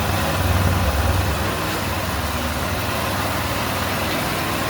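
A scooter engine idles after a partial engine rebuild, a steady, even mechanical hum and low rumble that stays constant and close, with no speech over it.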